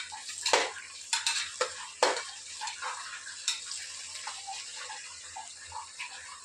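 Onions and green chillies stirred in a wide pan, with a soft continuous sizzle and several sharp scrapes and clinks of a utensil against the pan, close up and without talking.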